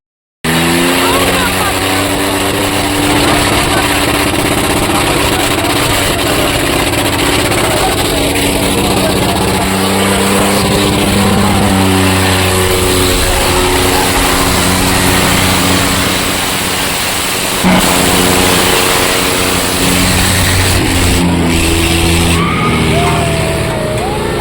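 Tractor engines roaring steadily at a North Karnataka tractor pulling competition, a loud continuous drone with shifting pitch throughout, crowd voices and talk mixed underneath.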